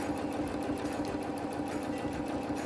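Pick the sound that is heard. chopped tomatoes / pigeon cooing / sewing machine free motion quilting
sewing machine free motion quilting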